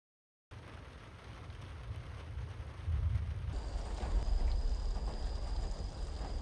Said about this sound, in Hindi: दोबारा बारिश शुरू हो चुकी है